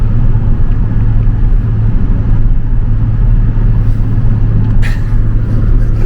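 Steady low car engine and road rumble inside a moving car on a long highway trip, continuous and loud with no pauses, a brief brighter hiss near the end.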